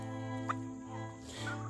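Turkeys gobble on a homestead, a couple of short burbling calls standing out over a steady humming background, fairly close and without talk.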